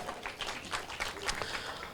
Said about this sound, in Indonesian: Tepuk tangan buat ayah bunda semuanya.